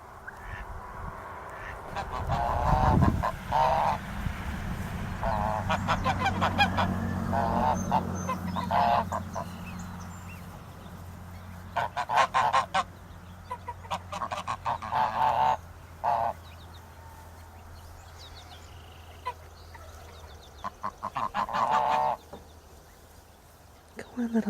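Geese honk repeatedly in bursts, fairly close, with pauses between calls over a low steady background hum.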